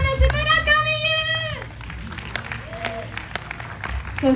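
Audience applause at a live music show as the drummer is introduced, broad clapping rising out of a band's sustained tones and continuing steadily at moderate loudness.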